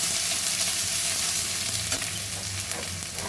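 A couple of garlic cloves fry in hot oil with a steady, loud, continuous sizzle and faint stirring that holds throughout.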